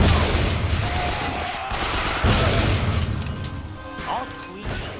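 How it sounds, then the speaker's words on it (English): Sniper rifle fire in BioShock Infinite booms heavily amid dense combat noise, with crashes and impacts layered under continuous shouting voices. "A pretty beefy sounding sniper."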